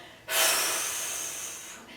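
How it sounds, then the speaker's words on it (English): A person blows one forceful, hard breath out through the mouth to engage the core muscles: a sudden loud, airy rush that starts sharply and fades over about a second and a half, close to the microphone. "you can also do this by breathing it really hard"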